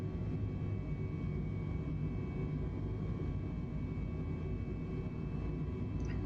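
An airliner in Microsoft Flight Simulator 2020 climbs out after takeoff from a short runway, a steady low engine roar with a faint whine above, unbroken and even throughout with no voices.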